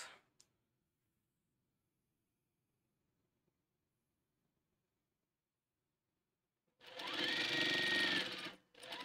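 A sewing machine stitches a quilt in one loud, close burst of rapid whirring after a long near-silent stretch, stopping briefly and then starting again at the end.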